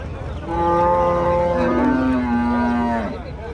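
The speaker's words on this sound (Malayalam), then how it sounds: "നല്ല വലിയൊരു പശുണ്ട്" A large cow at the Pollachi cattle market moos once, a long, deep, drawn-out low that rises slightly and then trails off, close and loud with no other sounds around it.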